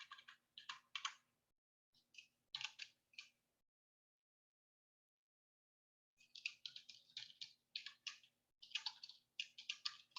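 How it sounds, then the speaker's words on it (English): Bursts of rapid typing on a computer keyboard, close and fairly quiet, in two clusters separated by a few seconds of silence, with a faint steady hum underneath. "typing too fast."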